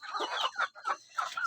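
Free-range village chickens kept on a small farm, clucking in several short bursts with brief pauses between, close and clear with no talk.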